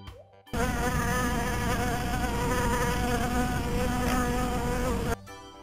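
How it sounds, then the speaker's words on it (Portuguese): Bee buzzing sound effect in a children's learning cartoon, a steady loud drone lasting about five seconds that starts and stops abruptly, with no talking over it. "Abelha."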